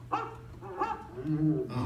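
An animatronic dog on the Carousel of Progress ride at Magic Kingdom gives a few short, close barks and whimpers, mixed in with show voices and music.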